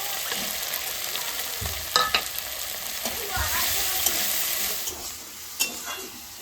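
Spices fry with a steady hiss in a home kitchen pan while a spoon stirs them, adding occasional scrapes and taps, close up with no talking.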